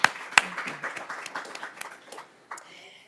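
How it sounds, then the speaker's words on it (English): At an Iowa City Foreign Relations Council event in the Iowa City Public Library, a small audience gives a short round of scattered claps that quickly tapers off into quiet. "So let's give a round of applause to them."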